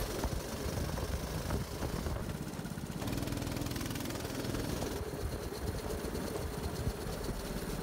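A go-kart engine driving around a track in Goa, a steady loud buzzing drone that shifts in pitch as it changes speed and holds without pause, with no talk.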